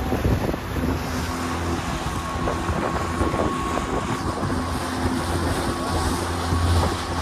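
A small boat moves across a lake in Olsztyn, with a steady low engine drone and water wash under gusty wind buffeting the microphone.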